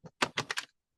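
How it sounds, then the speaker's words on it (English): A thick deck of tarot cards is shuffled: four or five quick, papery riffling bursts in close succession, near and fairly quiet, with no talk over them. "I failed at that shuffle."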